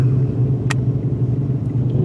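A car engine idling at a car meet in an abandoned shopping center parking lot: a loud, steady, low rumble close by, with one brief sharp click partway through.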